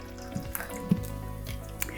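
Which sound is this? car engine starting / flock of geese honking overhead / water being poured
water being poured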